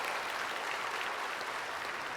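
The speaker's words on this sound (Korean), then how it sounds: "이럴 때는 박수 한번 해줘야 되는데" Congregation applause during a church service sermon: a steady, dense patter of many hands clapping together, moderately loud and continuous throughout, with no talking over it.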